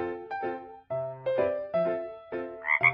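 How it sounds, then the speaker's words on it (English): A frog croaks repeatedly in short, resonant bursts, a handful of distinct calls close to the listener with brief pauses between them. "Frog."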